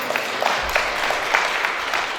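Audience at an exhibition opening in a chapel gallery, giving a short burst of light, scattered applause that carries on evenly without voices.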